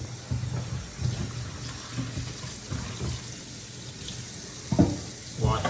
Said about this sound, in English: wash a little bit of dishes